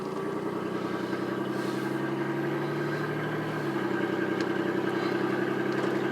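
An old, loud, underpowered car engine idling steadily with a rough, clattery mechanical drone and a rubbing noise, with no exhaust fitted. It runs continuously at close range, shifting slightly in tone partway through, with no talking.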